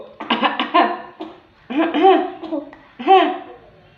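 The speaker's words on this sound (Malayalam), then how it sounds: "ശരിക്കും എല്ലാവർക്കും ചുമയാണ് കേട്ടോ" A child coughs in several short, harsh bursts, pausing between fits, close to the listener.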